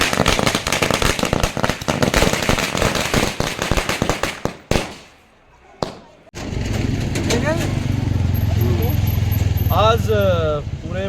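Firecrackers crackle in a dense, rapid string of loud pops at a political victory celebration, stop briefly, then give way to a steady engine drone with voices shouting.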